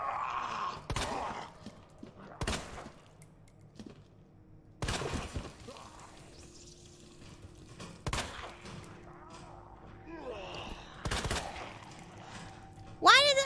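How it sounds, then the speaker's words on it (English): Gunshots in the survival horror game Resident Evil 2, as loud isolated cracks at irregular intervals, one close pair near the start, over a quiet eerie game ambience with faint groans. "Why did I shoot twice?"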